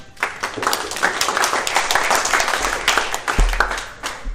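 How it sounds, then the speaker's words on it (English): An audience at a tech security talk applauds with steady, dense clapping that carries on throughout without pause. "so a big round of applause."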